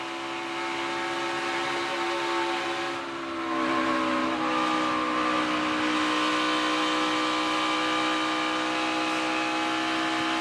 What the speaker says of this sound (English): Let's listen to him as he gets down into 1 and 2, Adam. See if he's bottoming out